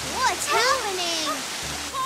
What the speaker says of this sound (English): The water exploded from underground!